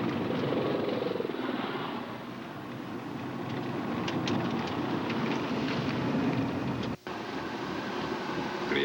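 A military helicopter's steady rotor and engine roar fills the whole clip, loud and close, with a brief dropout near the end.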